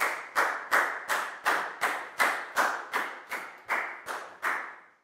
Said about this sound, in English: a big round of applause for Pat, please, guys